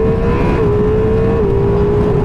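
A 170-horsepower Ducati Multistrada V4 Rally motorcycle engine revs loudly up close, a sustained roaring whine that climbs in pitch in short steps.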